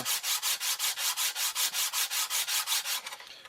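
A new printmaking matrix mat is rubbed down by hand with about twenty even, rhythmic back-and-forth strokes, a close, steady abrasive scrubbing that stops at the end.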